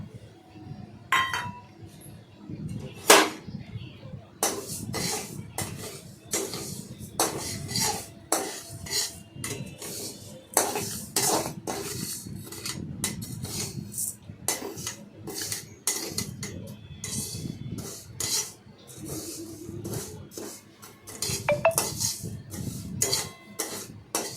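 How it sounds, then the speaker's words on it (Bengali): Moong dal is dry-roasted without oil in a pan while being stirred, producing repeated clinks and scrapes of a metal spoon against cookware in irregular bursts, with a voice speaking at times between them. "মুগ ডালটাকে ভালো করে ভেজে নেব তেল ছাড়া"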